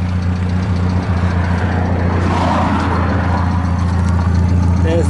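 A Morris Minor with a big bore engine and a larger exhaust box with a 2-inch tailpipe idles close by, a steady low burbling rumble with a faint rev swell, and someone talks over it briefly.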